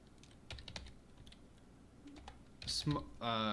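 Light keyboard typing while writing code, a few scattered soft key taps in a quiet room, followed by a brief louder burst and some tonal sounds at the end.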